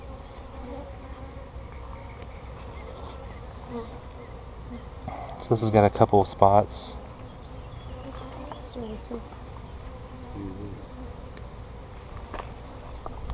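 Honeybees buzz steadily during a hive inspection, a continuous drone with a louder close fly-by in the middle, while a person talks.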